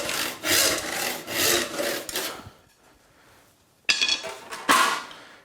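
Hand sawing through a narrow wooden board: steady rasping strokes for about two seconds, a pause, then a few shorter, sharper strokes near the end.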